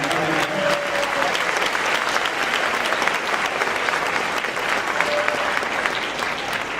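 Steady audience applause fills a band winter concert hall, dense and continuous clapping from a sizable crowd with no pauses, loud and close throughout.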